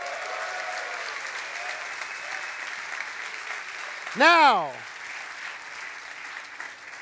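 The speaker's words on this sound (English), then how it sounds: "Give yourselves a round of applause" A crowd applauds steadily at a hackathon closing ceremony in San Francisco, a sustained wash of clapping broken midway by a short, loud swooping whistle, with a brief word spoken near the end.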